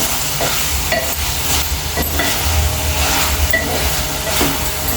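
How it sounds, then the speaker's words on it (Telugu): Ingredients frying for sambar in a pan with ghee, a steady broad sizzle and crackle running continuously and fairly loud throughout, with faint occasional clinks and no talk. "చక్కగా ఫ్రై అయిపోతున్నాయి మంచిగా"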